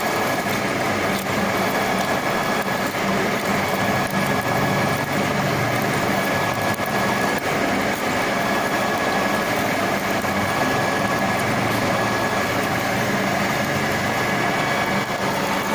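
A milling machine drilling a hole 15 mm deep in a workshop gives a steady, loud mechanical hum and whir that runs continuously without talk.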